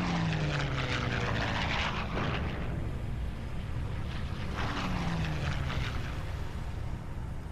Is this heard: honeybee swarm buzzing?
no